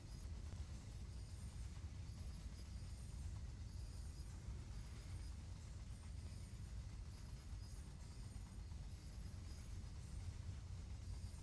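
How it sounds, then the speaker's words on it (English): Train wagons roll along the track in Train Sim World's Main-Spessart Bahn, a continuous low rumble, steady and unbroken throughout, with no voices. "the noise of the train wagons rolling down the track"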